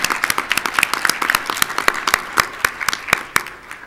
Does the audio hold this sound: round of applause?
yes